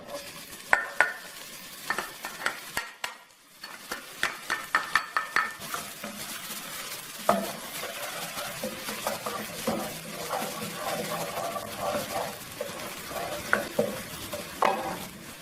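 Minced garlic sizzles steadily in hot oil while a utensil stirs and scrapes the pan, with frequent light clinks of metal on metal.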